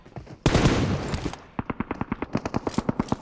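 Game gunfire rings out as a dense, loud burst of rapid shots, followed by a steady string of about fifteen evenly spaced, sharp single reports.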